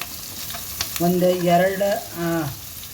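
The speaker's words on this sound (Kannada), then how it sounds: "ಇವಾಗ ಈರುಳ್ಳಿ ಹಾಕ್ತಾಯಿದ್ದೀನಿ." Onions are dropped into hot oil with curry leaves in a pan for a carrot stir-fry, setting off a loud, close sizzle that swells twice as they hit the oil and are stirred.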